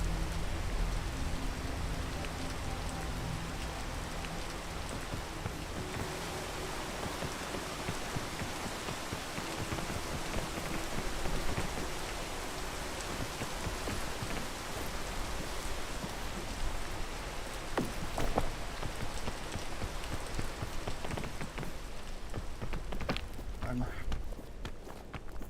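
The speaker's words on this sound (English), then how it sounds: "The frequency at which it rains is absolutely ridiculous." Rain falls steadily in the video game PEAK during a solo mountain climb. It is a continuous, dense downpour throughout, with footsteps crunching along underneath.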